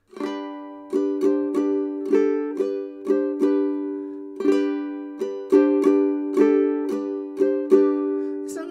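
Bright ukulele chords strummed in a steady pattern, each strum ringing briefly before the next, played alone without talking.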